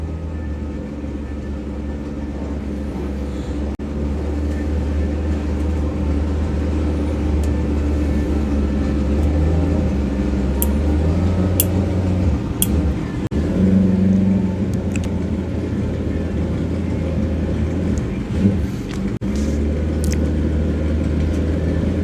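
Top fuel drag bike from Warp Speed Racing at a track day, its engine a loud, steady low rumble throughout with no clear revving bursts or launch.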